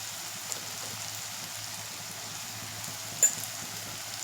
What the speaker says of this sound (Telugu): ఆనియన్ ఫ్రై అవుతుంది కదండి.